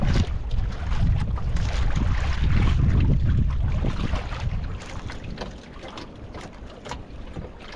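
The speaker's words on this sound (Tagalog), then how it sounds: "Isang bangka na yung katabi natin." A boat on open water passes close by while fishing at sea, giving a steady rushing wash and engine rumble that fades over several seconds, partly masked by gusty wind buffeting the microphone.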